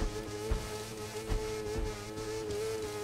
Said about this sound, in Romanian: cum se aude motocicleta asta